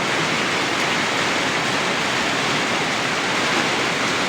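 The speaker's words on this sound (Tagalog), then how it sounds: "medyo malakas ang ulan" Heavy rain falls over a fishpond, making a dense, continuous hiss that stays loud and even from start to finish, with no other sounds standing out.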